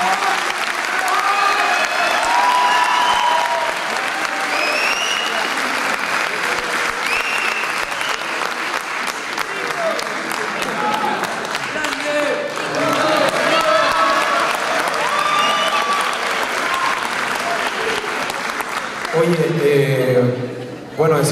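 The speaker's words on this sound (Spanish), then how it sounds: "un fuerte aplauso para ellos por estar aquí." An audience at a film teaser presentation applauds and cheers for two guests, loud steady clapping with whoops and voices mixed in, and a voice speaks over it near the end.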